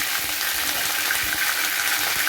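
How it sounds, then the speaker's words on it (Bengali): Garlic and onion paste frying in oil for a Cox's Bazar dried fish curry, a dense continuous sizzle filling the short stretch with no voices. "একটু হালকা বেজে নিতেছি এখন পেঁয়াজ দেব পেঁয়াজ বাটা দেব দুই টেবিল চামচ পেঁয়াজ বাটা দিতেছি"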